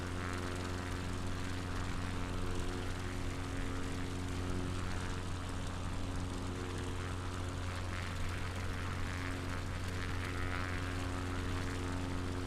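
A propeller aircraft drones steadily in flight along the coast between Bournemouth and the Isle of Wight, its engine note constant, loud and unbroken from start to finish.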